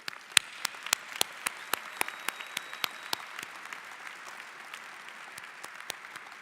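Sparse applause at a Carlson School of Management MBA graduate commencement ceremony, as a scattering of individual claps rings out in an uneven rhythm and then thins toward the end, with no voices over it.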